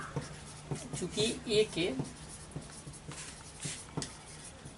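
Pen scratching out a Class 10 maths solution with short, close writing strokes in bursts, under a man's steady explanatory speech.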